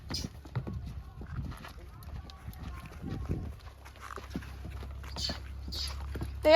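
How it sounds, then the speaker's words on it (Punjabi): A mare's hooves clop at a walking pace, uneven and fairly close, with a low steady hum coming in partway through. "ਲੋ ਇਧਰ ਘੋੜੀ ਲਈ ਆਉਂਦਾ ਸੈਮ ਬਾਹਰ"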